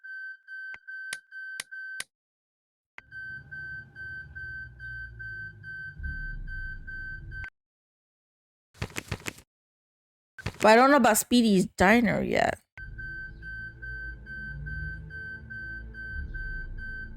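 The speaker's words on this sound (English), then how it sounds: "Not while the alarm is ringing." A steady electronic beeping alarm rings in a video game, a repeating high tone that stops and starts between stretches of talk and game sounds, fairly close and clear.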